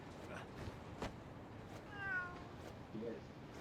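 Cats meow several times in the video game Lost Judgment, short faint mews over a noisy game soundscape with a voice nearby.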